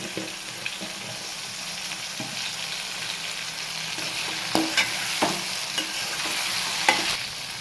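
Cumin seeds fry in a pan for peanut and ivy gourd chutney, giving a steady soft sizzle with occasional scraping clicks as they are stirred, close and alone without talk.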